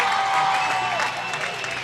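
Hockey arena crowd at a Dayton Demonz game in Winston-Salem, NC, cheering and clapping as a player pumps up the fans, a dense, steady roar of many voices with applause and a whistle-like tone running through.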